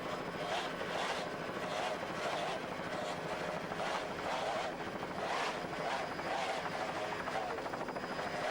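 Two 2.5 EFI outboard engines power a racing boat off Key West, Florida, producing a loud, steady, roaring drone with wind buffeting, heard continuously throughout.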